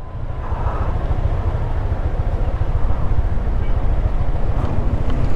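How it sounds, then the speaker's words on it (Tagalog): Strong wind buffets the microphone in a steady, loud roar with low rumbling gusts throughout, outdoors at a roadside stop overlooking Taal Volcano in Balete, Batangas. "lakas ang hangin dito."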